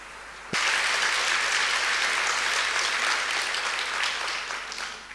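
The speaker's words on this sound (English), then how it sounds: "The applause go to her, and I'd like to congratulate her." A symposium audience bursts into sustained applause all at once, a dense, even wash of many hands that holds steady and then eases slightly toward the end, with no voices over it.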